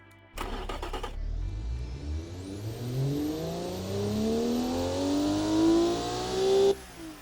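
A car's 211 hp 2-liter inline six with VTEC starts and revs up smoothly, its pitch climbing steadily for several seconds before cutting off abruptly, loud and close with no talk.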